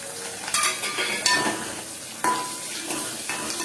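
Chopped onions fry for a fish curry in a pan, giving a steady close sizzle with scraping stirs and a few clinks of the utensil against the pan.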